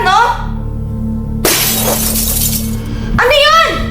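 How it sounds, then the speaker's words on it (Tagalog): Glass shatters loudly and abruptly in a dark house, a burst of breaking and scattering pieces between frightened voices speaking before and after. "may nabasag siya!"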